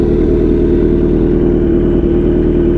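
Kawasaki Z900 fitted with an Akrapovic GP full exhaust, a loud, close, steady deep engine rumble held at raised revs throughout, with no talking.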